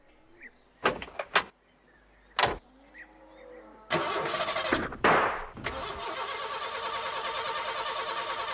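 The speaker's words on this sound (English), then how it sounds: "She won't start, Ted." Postman Pat's van engine cranks without catching: a few clicks and short bursts, then a long loud whirring crank that keeps going steadily without the engine firing.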